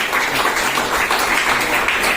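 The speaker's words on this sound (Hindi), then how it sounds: "एक बार जोरदार ताली ऐसे प्रतिष्ठान के लिए।" An audience at an Indian education conference and award ceremony claps in a dense, steady burst of applause that fills the whole stretch.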